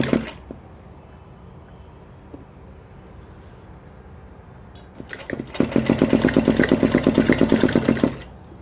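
A sewing machine stitches piping onto the neckline of a 36-inch ladies suit: quiet handling and small clicks, then the motor whirs into a fast, steady, rhythmic run for about three seconds before stopping.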